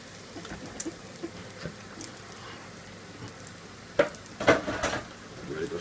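Mincemeat for cottage pie frying in a pan, a soft steady sizzle under scattered scrapes, then louder stirring and clattering bursts in the last two seconds as the meat is turned.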